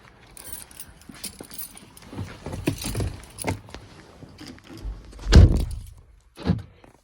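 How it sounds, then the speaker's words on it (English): Car doors locking, with several close clunks and thunks among jangling keys, one heavier thunk standing out near the end. "And lock your doors. Usually all 4 doors will lock"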